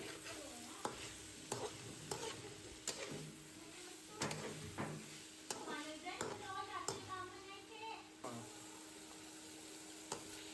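Chopped cabbage being stirred into macaroni in a pan, with repeated scraping and tossing strokes over a soft sizzle, close and steady throughout.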